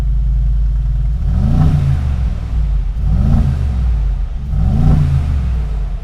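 A 2021 Mercedes-AMG G63 engine revs indoors in three deep, loud surges, each swelling and falling back to a rumbling idle, with small exhaust pops at the tail of the revs.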